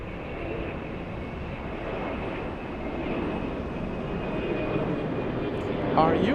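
A steady, broad engine roar from an airliner taking off at Atlanta Hartsfield-Jackson airport fills the whole stretch, loud and even, building slightly toward the end, with faint radio chatter beneath.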